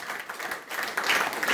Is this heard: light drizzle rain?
no